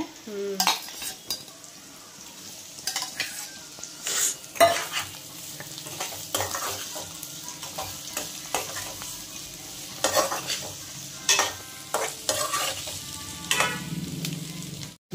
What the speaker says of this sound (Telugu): ఇప్పుడు కంద ముక్కలు వేస్తున్నా చూడమ్మా.